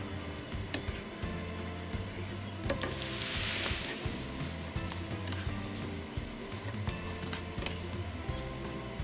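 Rice and shrimp fry together in a pan, a steady close sizzle broken by scraping stirs and occasional clicks of the utensil, with no one speaking.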